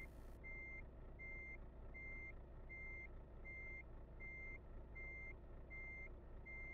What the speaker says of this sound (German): jetzt stehst du hier und piepst die ganze Zeit.